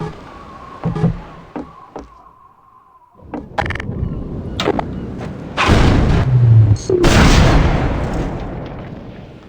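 Headcrab canisters launching in Half-Life 2: Lost Coast, heard as several loud booming blasts and thuds, the last ones long and roaring, with scattered sharp game impacts and no speech.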